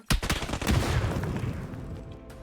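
Gunfire in PUBG: a sharp nearby shot opens a quick volley of rapid bursts, followed by a long rolling echo that fades slowly, loud with no talk over it.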